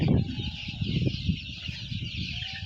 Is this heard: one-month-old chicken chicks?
yes